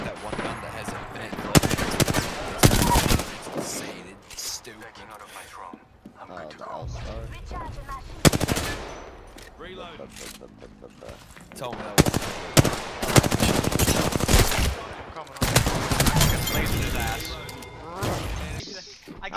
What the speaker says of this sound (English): I just run and gunned it.